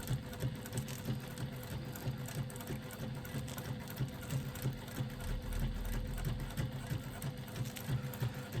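Sewing machine stitching slowly around the outside edge of embroidered seat belt pads made for a Fiat 500, a steady continuous mechanical whir with a fast needle rhythm, close up and alone with no talk.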